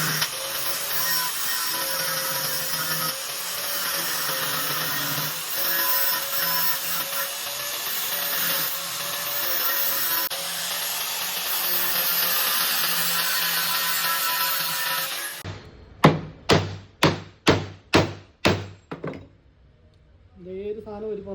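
A gas regulator is cut open with a power tool that grinds and whines steadily for about fifteen seconds. After it stops, about eight sharp, evenly spaced clacks follow as the regulator is handled.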